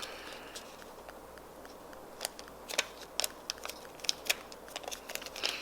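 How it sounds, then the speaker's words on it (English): A paper bill is folded in three, giving soft crinkles and sharp creasing snaps that come in a quiet, close, irregular series with no talking. "you're going to take your bill and you're going to fold it in 3"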